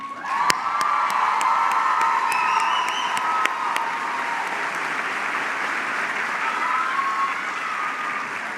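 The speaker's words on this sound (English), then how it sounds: "You may applaud." Large crowd at a college graduation ceremony applauds continuously for over eight seconds, with scattered whoops and cheers rising over the steady clapping at a distance.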